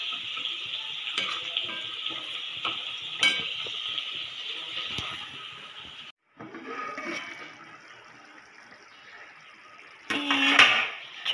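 Potato and eggplant curry simmering in a pan, a steady hiss of bubbling and sizzling that runs throughout, briefly dropping out midway, with occasional clinks and a louder stir near the end.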